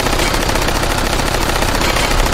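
Sustained automatic gunfire in the VR shooter Hot Dogs, Horseshoes and Hand-Grenades, a dense, loud, continuous burst of rapid shots running the whole time with no pauses.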